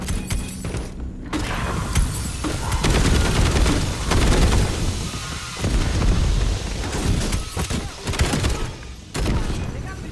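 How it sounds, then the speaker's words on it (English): Dense, continuous bursts of automatic gunfire and explosions fill a Black Ops 7 zombies-style video game fight, loud and chaotic with brief lulls between volleys. "They got machine gun."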